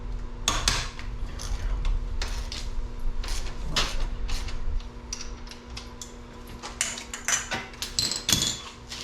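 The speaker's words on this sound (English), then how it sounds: "Now we'll take this axle bolt out, which will release our tire" Axle bolt being loosened and pulled from a Honda CRF110 dirt bike: a run of close, sharp metallic clicks and clanks at irregular intervals over a low steady background hum.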